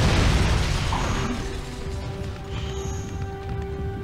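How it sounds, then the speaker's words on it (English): One tank is smashed into another in the Hulk Ultimate Destruction video game, producing a heavy crashing boom that starts loud and fades into a lingering mechanical rumble. "Breaking the tank with the other tank."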